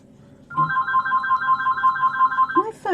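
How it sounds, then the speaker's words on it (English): A phone ringing with an incoming call in a quiet artist's studio, a steady electronic tone held for about two seconds before it breaks into a rising chirp. "My phone never rings, and this is the second phone call."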